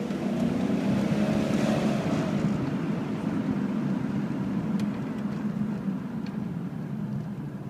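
A lifted Jeep Cherokee XJ engine is given gas, a dense low rumbling roar that swells early and then settles into a steady, slightly fading drone, alone without talk.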